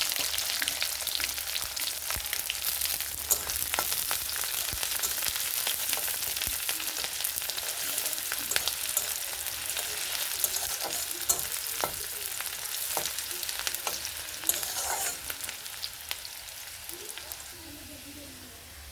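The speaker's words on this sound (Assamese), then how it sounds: "মোৰ পিঁয়াজখিনি ভজা হৈ গৈছে।" Onion, garlic, dried red chilies and green chilies fry in hot oil for masoor dal chochchori, giving a steady dense sizzle throughout with a few scattered pops and faint spoon stirs, no talking.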